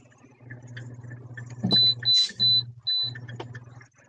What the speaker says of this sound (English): Sorry for the beeping. I had to turn my heater up.